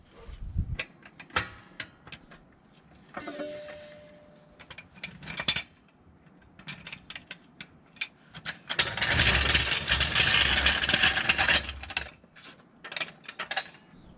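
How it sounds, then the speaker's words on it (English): A car jack comes down from under the gearbox of a BMW E87 1 Series. Scattered close clicks and clunks lead into a longer, dense burst of ratcheting mechanical rattle, then a few more sharp clicks. "Now that's secure enough that we can now remove the jack."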